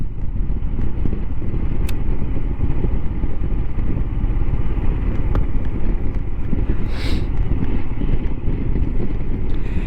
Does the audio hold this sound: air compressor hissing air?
no